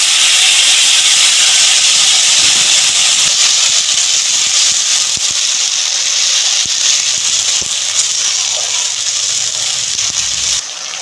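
Spice paste dropped into hot oil seasoned with asafoetida, giving a loud, continuous close-up sizzle and hiss that stays dense throughout without any talking.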